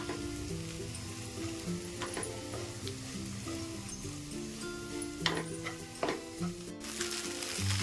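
Soaked, squeezed flattened rice is stirred in a hot pan over a steady low sizzle, with a few scraping stirs and knocks against the pan. A faint background tune plays underneath.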